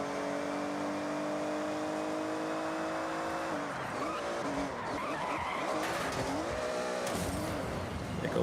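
Porsche race car in The Eliminator video game screeching through a hard skid, tires squealing over a steady engine roar that keeps going loud and continuous from start to finish.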